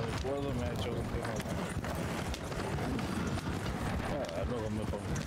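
Horse hooves clip-clop in a Western video game set in 1920, a steady rhythmic trot under someone talking, with a faint whinny.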